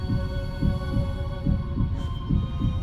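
A slow, steady heartbeat in a song, with deep paired thumps repeating about every 0.8 seconds over a sustained droning hum, loud and close.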